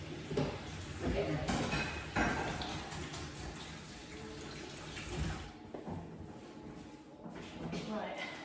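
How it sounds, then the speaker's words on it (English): Tap water runs into a sink while hands are washed, a moderate steady splash with shifting bursts and some shuffling, heard close in a kitchen. "I just actually need to wash my hands."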